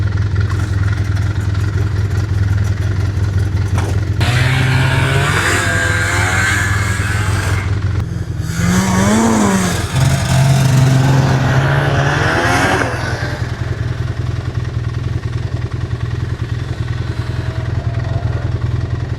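A 32-year-old Ski-Doo snowmobile engine revs hard on a snowy pole line trail, rising and falling in several loud surges over a steady close-up drone, with no talking.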